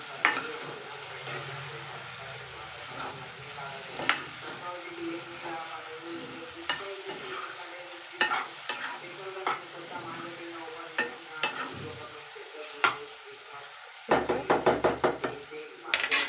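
Mixed vegetables fry in a little oil in a pan for a masala curry, with a soft continuous sizzle under repeated scraping and knocking of a spoon or spatula against the pan, growing busier toward the end.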